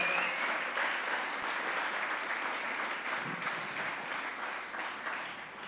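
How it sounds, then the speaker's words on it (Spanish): A church congregation applauds in a sustained burst of dense clapping that holds steady for several seconds, then fades slightly near the end. "Dele un fuerte aplauso a nuestro Dios."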